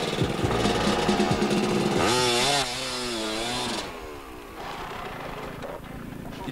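A rally motorcycle engine revs hard and rasps loudly, pitch swooping up and down as the throttle is worked, then drops to a lower idle-like drone.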